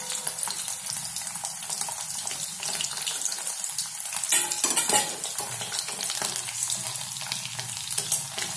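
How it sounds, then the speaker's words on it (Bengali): Paneer pieces frying in hot oil in a wok give a steady broadband sizzle with faint clinks around the middle, continuing alone with no voices. "তেল গরম হলে আমরা কড়াইতে আস্তে আস্তে পনিরটা ছেড়ে দেব"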